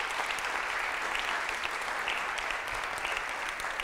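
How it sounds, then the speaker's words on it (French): An audience applauds at a live show, a continuous wash of many hands clapping at an even level throughout, with no speech. "je pense qu'on peut les applaudir"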